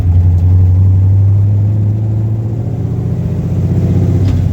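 A carbureted V8 fitted with FiTech fuel injection, timing set around 36 degrees total, idles close by with a loud, steady, deep rumble and an even throb.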